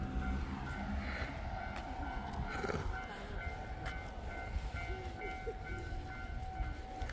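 A train rumbles past at a distance, a steady low roar with faint rail clatter and a brief tonal whistle-like note, continuous throughout, with no one speaking.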